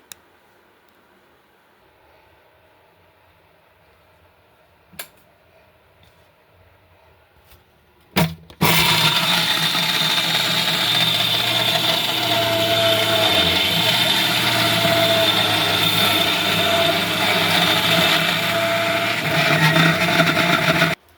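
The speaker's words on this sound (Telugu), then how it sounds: "ఇలా మిక్సీకి వేసేద్దాం" After a few faint knocks and a sharp clack, a mixer grinder grinding dry fruits for laddus starts up and runs with a loud, steady whirring roar until the end.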